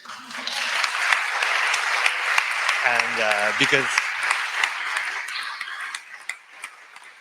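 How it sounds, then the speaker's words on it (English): Steady applause from a group fills the room, with a brief spoken phrase over the clapping partway through before it gradually thins out. "So I would say an applause to everyone."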